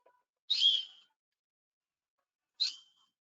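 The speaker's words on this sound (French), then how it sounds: "j'espère que vous entendez ces coups de sifflet" Two short referee's whistle blasts in a soccer training clip, the first longer at about half a second, the second a brief chirp two seconds later, fairly faint with silence between.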